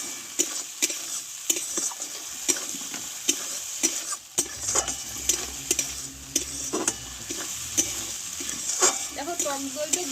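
Spice paste mixed with sour yogurt is stir-fried in a pan, with soft sizzling under regular scraping and clinking strokes of the spatula, while a voice talks now and then.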